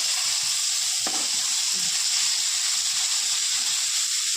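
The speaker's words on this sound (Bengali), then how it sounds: "সব কটা এখন ফ্রাই করে নেব এক ভালোভাবে সব ফ্রাই হয়ে গিয়েছে একটু মশমশে করে ভেজে নিতে হবে" Fish frying crisp in a little oil, giving a steady bright sizzle that runs throughout, with a brief utensil scrape near the start and no talk.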